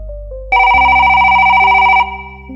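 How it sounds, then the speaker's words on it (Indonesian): A telephone rings loudly with a sustained electronic bell tone that rises into a bright, full ring partway through and then fades, standing alone without talk. "Telepon berdering nyaring"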